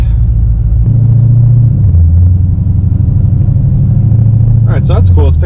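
Jeep Grand Cherokee SRT cruising on the road, a loud, steady low engine drone and cabin rumble that shifts pitch slightly as the car drives, with brief chirpy sounds near the end.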